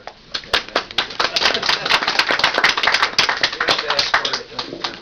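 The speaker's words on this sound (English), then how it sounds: "And some applause." An audience at an event celebrating Will Eisner breaks into scattered applause, a patter of overlapping claps nearby, uneven and fairly light, with voices mixed in.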